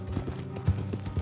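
Horse hooves clip-clop in a quick, close rhythm of several hoofbeats in the Red Dead Redemption 2 game.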